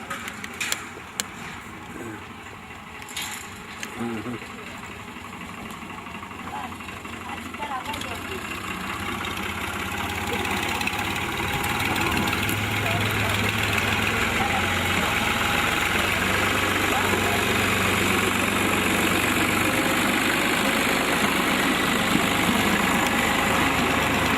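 A motor engine runs and idles in a village near Çermik, giving a steady low rumble that grows slightly louder after the first seconds and continues throughout while people talk nearby.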